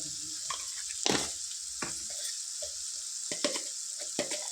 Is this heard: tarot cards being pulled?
no